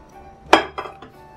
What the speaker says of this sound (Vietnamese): Mình trộn sườn qua với nước sôi như thế này để cho nó sạch bớt những cái phần cặn bã đó